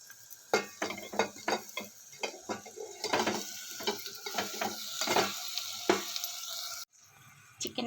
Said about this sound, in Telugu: చికెన్ వేసేసి చక్కగా కలుపుకున్నానండి.